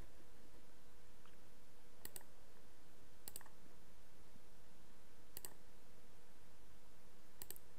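A computer mouse clicking while working in a spreadsheet, four crisp, isolated clicks spaced a second or two apart against a quiet, faintly hissing room.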